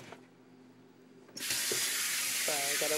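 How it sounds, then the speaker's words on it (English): A kitchen tap turns on abruptly after a quiet moment, and hands are washed under the steady, loud running water splashing into the sink, with faint kitchen clatter. "I gotta wash off my hand."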